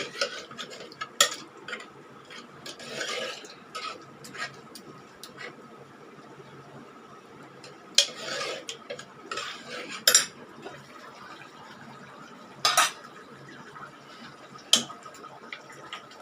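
Cooked lentils being mashed in a metal pot for radish sambar, with scattered clinks and scrapes of a utensil against the pot over a quiet background, some sharp taps standing out.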